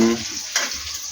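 Oil sizzles steadily in a pan as ingredients are fried until reddish-brown for a curry, a continuous close hiss with a brief flare of stirring partway through.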